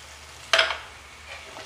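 Tomatoes tipped and stirred into sizzling fried spices in a pan for masoor dal, one brief loud burst of sizzle and scraping that fades into a faint background hiss.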